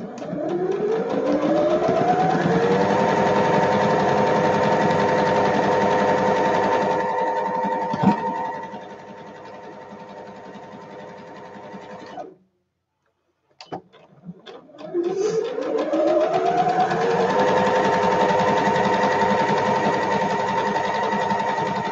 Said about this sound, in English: I'm going to come down here and go over the second stitch line so I can get it down nice.